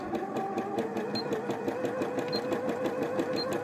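A sewing machine runs steadily, stitching in a continuous rapid rhythm, close and fairly loud, with no talking.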